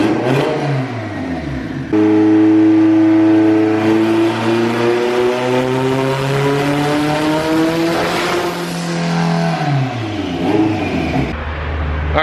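Turbocharged 600 HP Acura Integra GSR engine revving on a dyno, a loud rising pull climbing steadily for several seconds, then dropping off and starting another climb.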